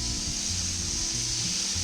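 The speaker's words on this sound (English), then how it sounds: "listen to that sizzle as soon as the beef hits the grill" Korean-style beef short ribs sizzling on a Weber Q grill, a steady, close hiss and crackle of fat frying, with a low rumble underneath.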